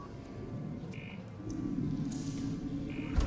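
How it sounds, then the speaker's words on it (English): An alarm set off in the video game Alien Isolation, a pair of short electronic beeping tones repeating about two seconds apart over a steady low game rumble that swells partway through. "Alright, I started an alarm"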